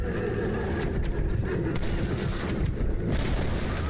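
Gunfire in the Red Dead Redemption video game during a fight with the Mexican army: dense, continuous booming shots and rumbling blasts, loud and close, with no clear gaps.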